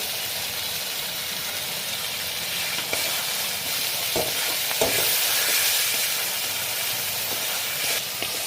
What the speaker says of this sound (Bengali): মশলাটা আমার কষা হয়ে গেছে, পাঁচ থেকে তেলগুলো সব ছেড়ে দিয়েছে